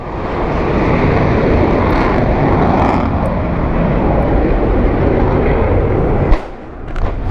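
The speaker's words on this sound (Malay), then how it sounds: "Ni ada lagi, jet." A jet aircraft passes overhead at Teluk Air Tawar, a loud sustained broadband roar that holds steady for about six seconds before dipping, with wind buffeting the microphone and no talk.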